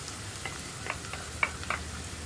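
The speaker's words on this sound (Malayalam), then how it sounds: "ഇനി നമ്മൾ നമ്മുടെ സവോള ചേർക്കുകയാണ്." Chopped onion tipped into hot oil with ginger and garlic for egg Manchurian, a faint soft sizzle with a few light stirring scrapes and clicks.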